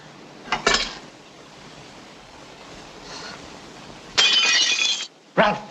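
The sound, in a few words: glass breaking in room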